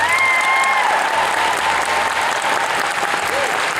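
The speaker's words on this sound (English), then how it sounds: "let's give our volunteers a round of applause" A convention audience at a DragonCon 2021 panel applauds its volunteers with loud, sustained clapping that fills the room, with a few faint voices mixed into the steady roar.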